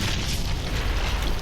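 A dense, rumbling explosion blast in the video game 50 Cent: Blood on the Sand, a sustained low boom with broad noise that fills the whole short moment at steady loudness.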